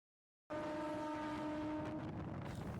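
A Uluberia–Kharagpur local train runs as it pulls in at Radhamohanpur station in East Medinipur. A steady, close rumble begins suddenly, carrying sustained humming tones, with a louder burst at the very end.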